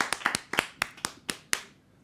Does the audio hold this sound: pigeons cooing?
no